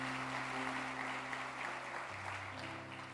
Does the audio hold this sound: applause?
yes